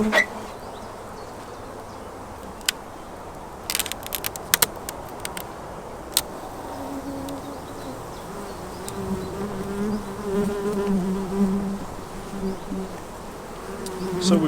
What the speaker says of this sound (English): So we've got plenty of bees in the hive here